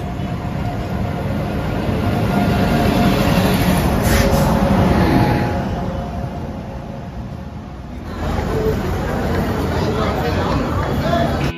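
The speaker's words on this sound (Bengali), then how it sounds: "ট্রেনের ধ্বনি জানান দিচ্ছে আমি সাগরকন্যা এসে গেছি ঠিক সময়েই" The Digha-Puri Samudrakanya Express pulls into a station, a steady broadband roar of rolling coaches with a swell around the middle, a brief dip, then a renewed rumble, under faint platform chatter.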